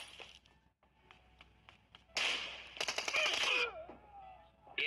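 Rapid bursts of gunfire in a team-match shooter video game, with dense clusters of shots after a quieter stretch, loud and close, while a voice talks over it.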